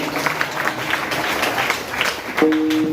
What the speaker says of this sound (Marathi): तुमच्यासाठी न सांगताच टाळ्या वाजल्या.